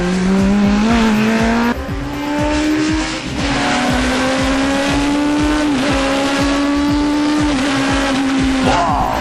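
A Mini race car powered by twin Yamaha R1 motorcycle engines screams through a fast lap, its high-revving engine loud and close with sharp gear changes and a brief dip in level.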